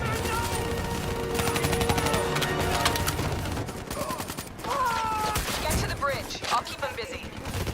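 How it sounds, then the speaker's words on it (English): Covering gunfire from the video game Black Ops 3: rapid automatic bursts crackle nearly nonstop, mixed with game voice lines and a swelling musical score. "Give me some cover fire."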